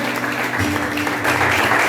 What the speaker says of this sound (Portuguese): Vamos aplaudir o nome daquele que vive.